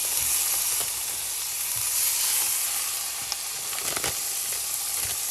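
Lean ground beef hits a hot pot and sizzles loudly and continuously, with a bright hissing spatter and a few faint knocks of the utensil, close up.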